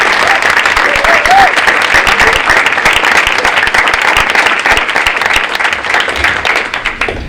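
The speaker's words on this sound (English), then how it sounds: "they deserve a round of applause for that" Loud, sustained applause fills a school winter sports awards night honoring girls' indoor track athletes, with many people clapping together and a brief voice rising over the crowd.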